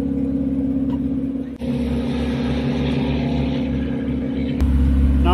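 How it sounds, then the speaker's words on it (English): A Dakar Rally truck with double springs and double front shocks pulls away in the Saudi Arabian desert, its engine a deep, steady rumble that swells louder near the end. "Another truck is going."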